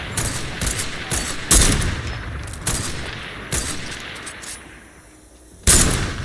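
Heavy .50 caliber sniper rifle fired in the video game Fortnite Save the World: several sharp, loud gunshot blasts spaced irregularly over a steady background, each ending in a short decaying tail.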